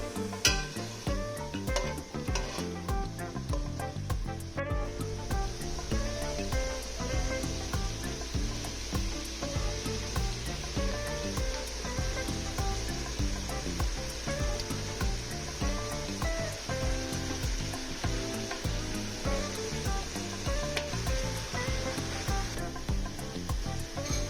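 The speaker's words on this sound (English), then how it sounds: "Add the onions and the sweet pepper and deglaze the pan with a little bit of water." Onions and sweet pepper fry in a hot pan for chipotle braised pork, giving a steady, loud sizzle with crackling spatter throughout, and no talk over it.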